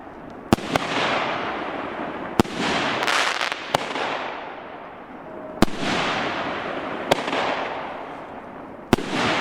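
Gaoo 2-inch fireworks launchers firing very high, sharp launch cracks about every second or two, each followed by a long hissing, crackling burst that fades, heard from a distance with no talk.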